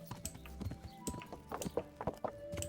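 Horse hooves clip-clop at a walk in the video game Kingdom Come: Deliverance, an uneven series of faint, close hoof strikes.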